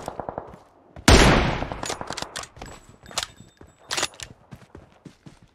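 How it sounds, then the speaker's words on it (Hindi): Gunfire hits a house in a shooting game: a loud close burst of shots erupts, then quieter rapid shots and metallic clinks follow in an uneven rhythm. "फायर हो रही है सामने वाले घर पे"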